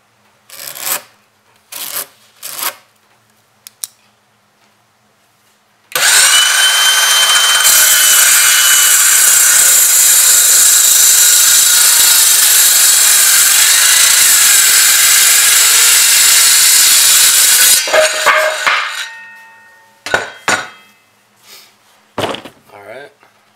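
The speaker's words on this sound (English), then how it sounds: "first thing, we're going to cut the 2x6" A power saw cuts through a six-foot 2x6 wooden board in one long, loud, steady whine lasting about twelve seconds, framed by a few short clunks and handling knocks before and after.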